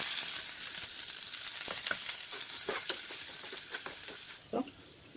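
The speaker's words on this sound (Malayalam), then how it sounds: "കടുക് ഇട്ട് കൊടുത്ത് 2 ഉലുവ, കറിവേപ്പില, ചതച്ച് വെച്ചിരിക്കുന്ന ഉള്ളിയും വെളുത്തുള്ളിയും ഇഞ്ചിയും പച്ചമുളക്." Mustard seeds, fenugreek, curry leaves, crushed onion, garlic, ginger and green chilli frying in a pan give a steady close sizzle, broken by the scrape and clatter of stirring and a few sharp pops.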